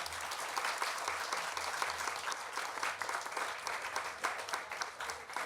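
An audience at a discussion event at a talk festival claps steadily, a dense even round of applause held throughout, moderately loud with no talk over it.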